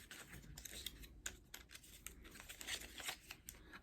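Plastic and cardboard packaging of a cosmetics advent calendar box being torn and crinkled open, close and quiet, a run of short irregular rustles, tears and snips.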